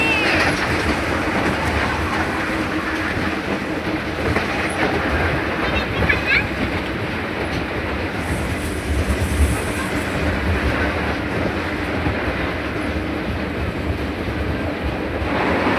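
A small toy train rolls through a garden and zoo park, a steady rumbling and rattling ride heard from onboard with soft clatter and faint voices underneath.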